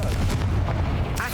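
A Confringo blasting spell from Hogwarts Legacy erupts in a short, rumbling explosive boom with crackling bursts, dense and loud over about a second, ending with a brighter flare of noise.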